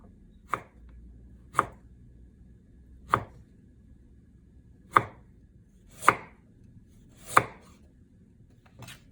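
A knife chops kohlrabi skin on a board in a home kitchen, six or seven sharp, separate thwacks at uneven intervals of about a second, close and clear against near silence.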